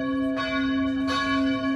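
A church bell rings out at Christmas near a parish church, two resonant strikes with long sustained humming overtones that hang in the air between them.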